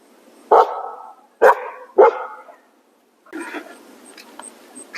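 Ellie the dog barks at something in the woods beside a drought-stricken summer vegetable garden, three sharp, loud barks spaced about half a second apart, then quieter rustling and distant birdsong.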